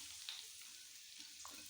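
Onion frying in about two large spoonfuls of oil for a meat tagine sizzles as a steady, quiet hiss, with a couple of faint clicks or stirring sounds.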